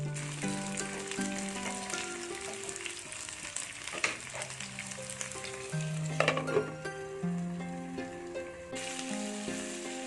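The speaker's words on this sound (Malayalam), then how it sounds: "ഓയിലോ വെളിച്ചെണ്ണയോ ചേർത്ത് നമുക്കിതിനെ ഒന്ന് ഫ്രൈ ചെയ്തെടുക്കാം" Chicken fries in oil or coconut oil in a covered pan, giving a steady, moderate sizzle that runs the whole time beneath prominent melodic background music.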